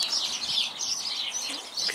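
Birds chirp and tweet in a garden, a steady bright chatter of overlapping calls that runs the whole time at moderate loudness with no talking.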